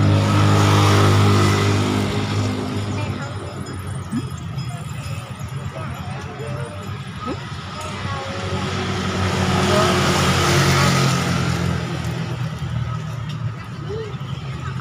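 Cars and motorbikes rolling along Dago street in Bandung as it reopens after car-free day, engines humming at a moderate distance and swelling as vehicles pass, with people talking over the traffic.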